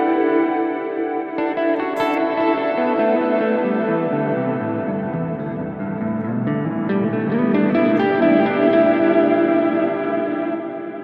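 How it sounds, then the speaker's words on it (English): A sustained electric guitar melody through a Fractal FM3 multi-tap delay, repeating echoes layering the notes into a wash, delay mix rising on higher notes, loud and continuous without any talking. "the mix of the multi-tap delay is also going up on those higher notes."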